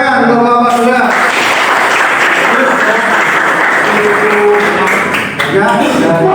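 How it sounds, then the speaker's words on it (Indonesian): Audience applause for a classroom group, a dense continuous wash of clapping at close range and high level, with a voice talking over its start and end. "tepuk tangan untuk kelompok 2"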